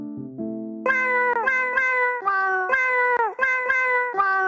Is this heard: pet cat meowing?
yes